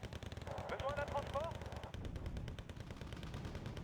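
Rapid gunfire in the strategy video game Wargame: Red Dragon, dense bursts running steadily across the clip with a faint tonal effect mid-way, under a busy battle mix.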